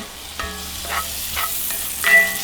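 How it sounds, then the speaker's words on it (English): Onions cooking in butter in a cast iron pot give a steady close sizzle, broken by a few scraping stirs and light metallic clinks at irregular intervals. "Just going to let my onions cook down just a little bit."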